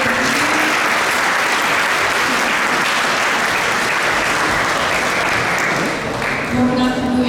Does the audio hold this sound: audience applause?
yes